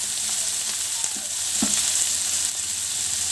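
A hog plum and small puti fish curry sizzles steadily in a pan while it is stirred, with a dense, even frying hiss and a few soft scraping strokes close by.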